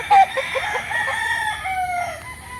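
A Filipino fighting cock, a gamefowl from Barangay Santor, Tanauan City, Batangas, lets out a loud, close crow that wavers and trails off over a couple of seconds, standing alone with no voices.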